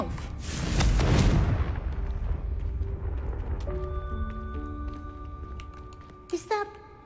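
A Confringo fire spell goes off in Hogwarts Legacy with a loud, roaring blast that peaks and rumbles away over a couple of seconds, followed by quieter in-game chimes and tones, while a character speaks.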